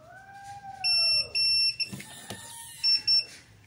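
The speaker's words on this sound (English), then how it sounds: "you're going to hear a double beep" An RV keyless entry door lock gives electronic beeps during fob programming: a pair of steady high-pitched tones sounds, then after a pause two more short beeps follow, clear and close over a faint background hum.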